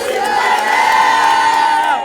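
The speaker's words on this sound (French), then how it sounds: "Acclamez Jésus par Jésus, acclamation." Church congregation loudly acclaiming and cheering Jesus, a sustained crowd roar with rising shouts and voices blending together for about two seconds, near and dense throughout.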